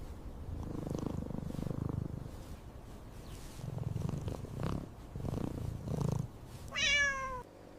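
A cat purring close by in slow, rhythmic rumbling pulses, ending with a short high meow.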